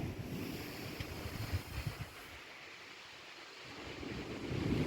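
Waves washing ashore on Abbotsbury beach shortly before high tide, a broad rushing surge that swells, eases midway and builds again, mixed with wind buffeting the microphone and no voices.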